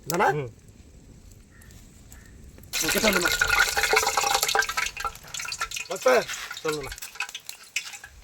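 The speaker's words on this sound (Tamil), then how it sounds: "எண்ணெய் சூடாயிருச்சு சரி ஓகே கொதிக்குது" Hot oil sizzles and bubbles loudly and continuously for frying mutton leg kebab in village-style cooking after a quieter opening, while a person talks briefly over the frying.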